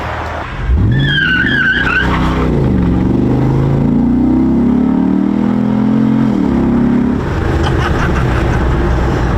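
A V8-powered Jeep Wrangler, with a big non-Hemi V8, revs up hard as it accelerates. Its rising engine note is loud and close, and a squealing tire chirps at the start as the tires break loose.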